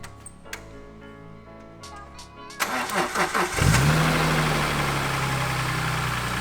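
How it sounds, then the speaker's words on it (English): BMW E46 M3 engine starting for the first time after new rod bearings were fitted: a few seconds of cranking whir, then the engine catches with a loud rev and settles into a steady close idle. "first time starting the engine after installing the rod bearings."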